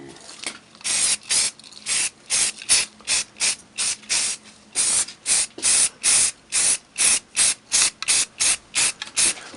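Rust-Oleum dark gray spray primer is sprayed onto a vehicle's brake caliper in quick repeated bursts, each short hiss from the can separated by brief pauses in an even rhythm, close and loud with no talk.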